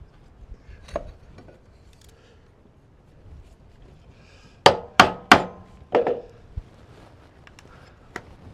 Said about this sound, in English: I can use my little mini chisel